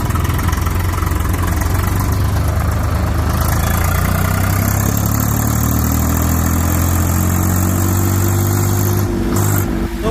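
A 2023 Swaraj 855 tractor, 57 hp, runs on a road in 4th gear, its loud, steady diesel drone holding a constant low throb close by, with a slight pitch shift near the end.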